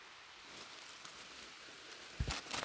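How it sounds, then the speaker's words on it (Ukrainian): Rain patters softly over a forest during a mushroom hunt, a faint, steady hiss of drops on leaves, with a few louder close taps and rustles near the end. "Дощик іде."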